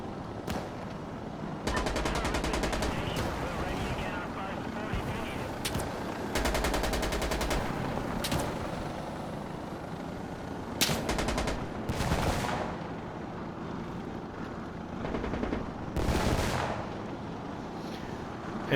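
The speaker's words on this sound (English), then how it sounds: "You can see it's firing like a very heavy 50 millimeter cannon" Repeated heavy bursts from an Apache helicopter's 50 mm cannon in a video game, loud rapid volleys coming in clusters with short gaps, alone with no talk.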